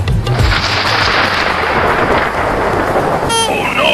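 Heavy rain pours steadily during a village downpour, a loud continuous hiss with low rumbles of thunder underneath and a brief sharper crack near the end.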